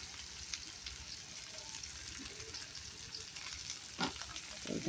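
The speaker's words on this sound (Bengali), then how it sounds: "রসুন দিয়ে দিলাম পেঁয়াজ কুচি দিয়ে দিলাম তো এইগুলো ভাজা ভাজা হবে" Steady crackling sizzle of garlic and chopped onion frying in oil for a beef curry, with occasional scraping clatter from stirring near the end.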